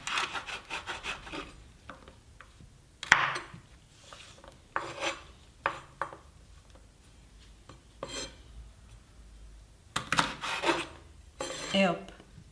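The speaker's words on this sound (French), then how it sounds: "je prends des haricots verts que je vais équeuter" Green beans being trimmed by hand in a kitchen, heard as soft, irregular snapping and rasping clicks in short bursts with quiet pauses between them, close and fairly faint, with no talking.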